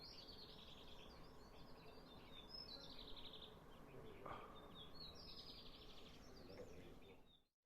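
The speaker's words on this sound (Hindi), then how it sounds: "आप देख रहे हैं चिड़ियों की चहचहाट सुन पा रहे होंगे" Birds chirp at dawn around a mountain village, thin high calls scattered in bursts through the whole stretch over a steady low hum, moderately faint and fairly distant, with no talking.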